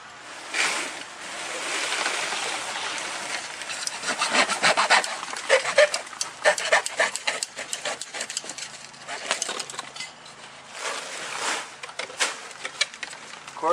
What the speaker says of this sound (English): So I'm going to cut a section out here for the Y and hook up the downspout.